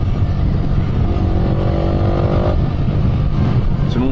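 Yamaha YZF R125 motorcycle fitted with a Blackwidow exhaust, its engine running loud and close in a sustained drone whose pitch climbs briefly before settling, with no talk over it.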